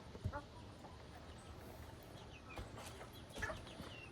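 Chickens cluck faintly and sporadically at a backyard bird pen during morning feeding and watering, with a couple of brief, sharper calls standing out over low ambient noise.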